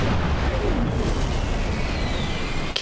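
Cannon fire in Halo 3, a heavy booming blast with a rumbling low roar that fills the scene, followed by a sharp crack near the end.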